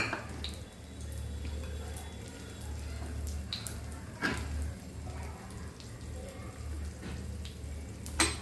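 Ghee and grated jaggery melting together in a hot pan, a faint, steady sizzle with scattered scraping clicks of stirring over a low kitchen hum.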